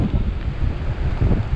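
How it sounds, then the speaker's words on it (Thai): Strong coastal wind gusting steadily across the microphone, a loud continuous low roar with rushing surges and no voices. "ลมมาแรงขึ้นครับอันนี้บอกได้เลย"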